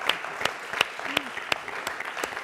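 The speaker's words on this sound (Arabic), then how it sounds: "تصفيق" Applause from a wedding audience, with sharp, distinct claps standing out over a softer bed of crowd clapping and faint voices.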